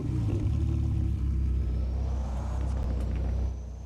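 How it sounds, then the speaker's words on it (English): A car engine in the Driving Empire video game drones loud and steady on a wide highway, a deep rumble with a faint rising whine on top, easing slightly at the end. "Hold on, I want to see if they fix the sounds for this car."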